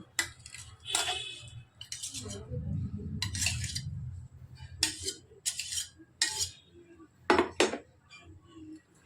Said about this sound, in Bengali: এবার ভালো করে চিকেনটাকে মাখিয়ে নেব